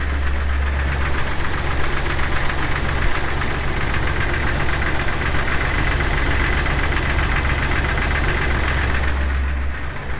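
A Jeep TJ engine runs steadily with a newly fitted belt, giving a close, continuous mechanical drone with a busy rattling texture and a deep hum, unbroken for about ten seconds.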